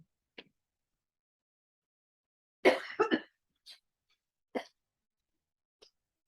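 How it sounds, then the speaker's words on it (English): A short burst of coughing, two or three quick coughs close up, with a few faint clicks and small throat sounds around it in a quiet room. "I hope I don't cough the whole time."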